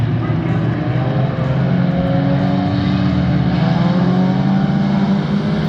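Engines of race cars on a track at the green flag roar in a dense, steady wall of sound, loud and continuous throughout, with pitches shifting as the field charges toward the first corners.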